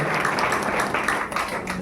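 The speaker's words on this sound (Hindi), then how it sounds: "जोरदार ताली मारकर हम पिता पुत्र पवित्र आत्मा को वेलकम करें" A congregation at a worship service claps loudly and steadily, a dense wash of applause filling the space for a couple of seconds.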